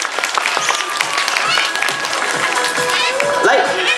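An audience claps at an animal theater show on an eco farm after a performing animal answers a sum correctly. The applause is loud, dense and steady across the whole stretch.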